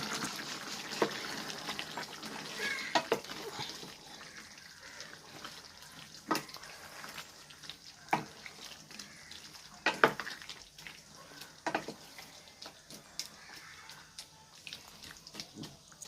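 A pan of country-chicken (nattukozhi) curry bubbles and sputters steadily, with soft popping and scattered clicks over a constant hissing simmer; no voices.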